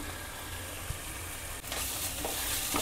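Ginger garlic paste sizzles in hot oil with a continuous dense frying hiss, swelling louder partway through, with a faint stir or two and no voices.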